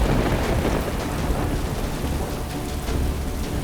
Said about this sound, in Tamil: ஆனால் இந்த மழையிலிருந்து எப்படி தப்பிப்பது?